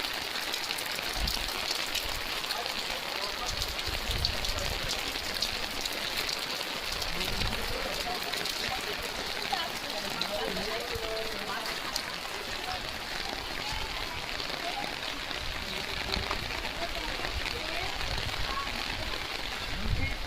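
Steady rain falls and soaks the streets on a rainy day, a soft continuous patter beneath people talking.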